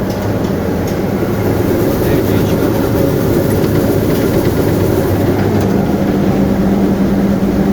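A loud, steady mechanical roar with a constant rumble and rattling from a grain cleaning machine running continuously at close range, cleaning freshly harvested white mustard seed.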